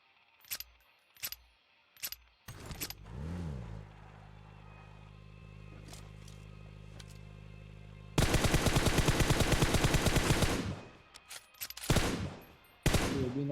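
Sniper and assault rifle fire in the PUBG battle royale video game: single sharp shots early, a vehicle engine hum, then a long loud burst of rapid automatic fire followed by a few more shots.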